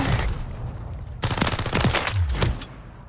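Rapid SMG gunfire in a video game squad match, loud bursts of automatic shots stuttering over a dense battle din, with a short pause then a second sustained burst.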